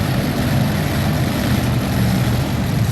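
Loud, steady roar of a modified pulling tractor engine at a 1999 NFMS tractor pull in Louisville, Kentucky, a dense continuous drone with heavy low rumble and no break across the stretch.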